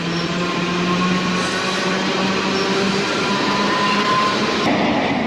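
An Erie Lackawanna eastbound MU electric commuter train rolls past steadily and loudly, with a continuous rumble, a hum and faint wheel clatter, and no voices.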